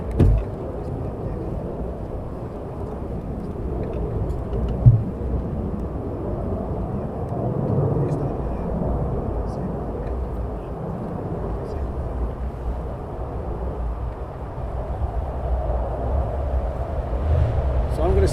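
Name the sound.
F-35 fighter jet doing a low approach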